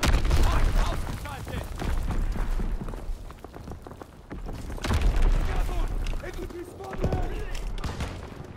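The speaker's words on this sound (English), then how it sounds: "Incoming enemy artillery. Get to cover." Enemy artillery strike in Call of Duty: WWII on the Flak Tower map, heavy booms and blasts landing in bursts amid scattered gunfire, with deep rumbling impacts recurring every few seconds.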